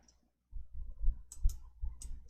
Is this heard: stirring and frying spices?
no